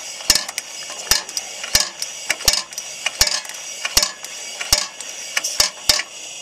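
A pressure lantern being pumped up by hand, giving a rhythmic series of sharp metallic clicks and clanks, about two per second, close and fairly loud with no speech.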